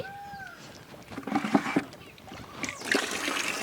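Water splashing as clothes are washed under a running tap at home, irregular splashes and sloshing bursts at moderate distance, with faint background noise.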